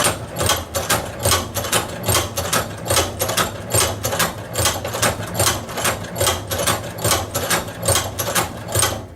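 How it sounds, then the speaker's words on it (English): A Cowboy Outlaw hand-operated leather sewing machine stitches through leather in an even run of sharp, close mechanical clacks, about two to three per second, each stroke clear and alone. "how the machine performed on sewing this leather"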